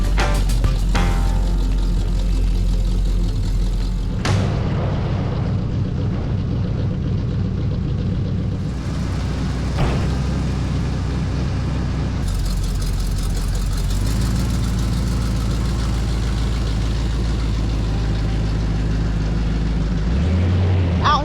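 A vintage lawn mower engine drones loudly and steadily as the mower is driven around doing spinner wheelies, the pitch shifting with throttle changes and a few sharp knocks.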